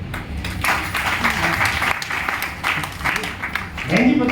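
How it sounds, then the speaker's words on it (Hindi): Audience applause for a woman at a leadership training session in Gurgaon, Haryana: steady, dense clapping from a room of people across the whole stretch, with voices murmuring underneath and a brief vocal sound near the end. "बहन जी के लिए ताली हो जाए"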